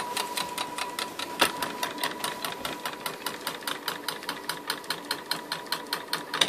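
Arduino-driven stepper motor on a homemade drilling machine, running steadily with a fast, even mechanical clatter of repeated ticks and a constant whine, close and moderately loud with no talk.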